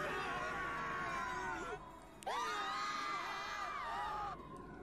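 High, shrill screaming in the visual novel game Umineko: When They Cry, several sustained wavering cries that break off briefly and then resume loudly, with crowd-like babble underneath.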